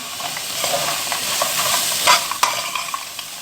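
Bread fries in a pan with a garlic and vinegar tasha, giving a close, steady crackling sizzle broken by stirring scrapes and a couple of sharper pops, fairly loud, with no talking.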